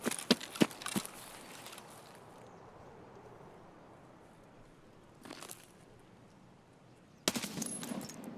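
Gunfire in the Escape from Tarkov SPT shooter game: a quick burst of several sharp shots at the start, then a quiet stretch of ambient wind, followed by two more short bursts of shots later on.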